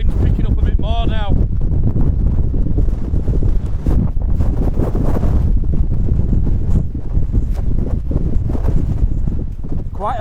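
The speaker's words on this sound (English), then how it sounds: "wind's picking up a bit more now" Strong wind gusts batter a camping tent in severe weather, producing a continuous rough, buffeting roar and flapping close to the microphone, with people talking over it.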